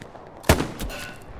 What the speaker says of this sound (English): trying to make a 480 meter shot right now